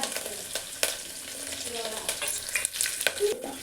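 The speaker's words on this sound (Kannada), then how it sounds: "ಇವಾಗ ಕಡಲೆಬೇಳೆ ಮತ್ತು ಕರಿಬೇವು ಹಾಕೋತೀನಿ." Chana dal and curry leaves frying in hot oil for a pulao, a steady close crackling sizzle with a few sharper pops and stirring clicks, no talk.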